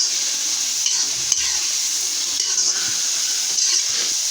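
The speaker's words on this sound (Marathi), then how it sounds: "नंतर आपण याच्यामध्ये चिकन घालणार आहोत पहा चिकन आता एकजीव करून घ्यायचं" A spoon stirs chicken into biryani masala in a hot pan, giving a steady sizzling hiss with occasional soft scrapes throughout.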